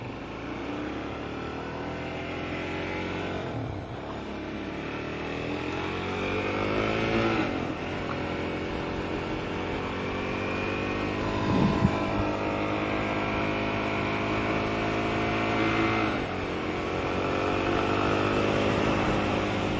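A Suzuki DRZ400 motorcycle out on the road, its engine holding a steady, close droning note with gently rising and falling pitch under constant wind rush, with no talking.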